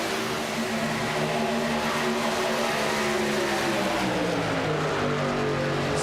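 Race trucks in a VSpeed Contender Series event accelerate on the track, their engines droning loud and continuous with pitch shifting as they pull away.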